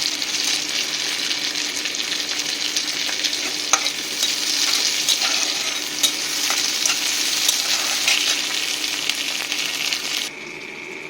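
Onion, green chili and half a tomato fry in a pan with a constant close sizzle, broken by scattered clinks and scrapes of stirring; no one speaks.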